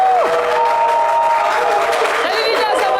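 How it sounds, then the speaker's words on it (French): A TV studio audience at an anniversary game show applauds and cheers as a guest is welcomed, a dense sustained roar of clapping and crowd noise with a voice speaking over it. "merci de faire un tonnerre d'applaudissements pour Dija Soro"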